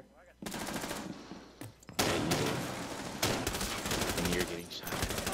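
Rapid automatic gunfire bursts from a first-person shooter game ring out loud and close in repeated volleys, with a few brief pauses between the bursts and no speech over them.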